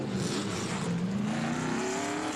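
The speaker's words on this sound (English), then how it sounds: "Ruttman rumbles down pit road" A race truck at a 1996 NASCAR truck race rumbles down pit road, its engine a loud, close, continuous drone whose pitch climbs steadily as it accelerates away.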